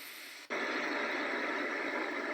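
A sound machine clicks over to its pink noise setting, a steady, softer, deeper hiss that holds at an even level after a brief gap.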